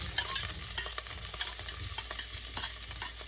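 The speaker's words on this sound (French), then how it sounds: "dans l'huile, je vais venir verser mes pommes de terre" Potato pieces fry in hot oil for a chicken dish in coconut-curry-ginger sauce, a steady close sizzle punctuated by repeated sharp clicks and scrapes of stirring, no voices.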